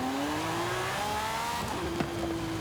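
A turbocharged Lamborghini Sian accelerates in Forza Horizon 5, its engine pitch climbing steadily before a quick shift drops it and it rises again, close and continuous.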